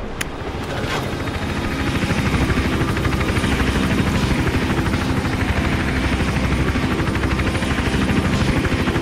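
A helicopter in the Hitman video game drones with a loud, steady rotor thump that builds within the first second and then holds constant throughout, with no voices.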